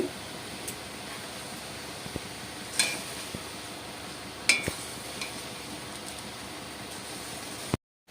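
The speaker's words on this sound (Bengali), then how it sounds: "এবার এটা একটু ফুটবে ফুটলেই নামিয়ে দেবো" Raw mango sour water bubbling in a pot, a faint steady hiss of boiling with a few soft clinks from a spoon or the pot.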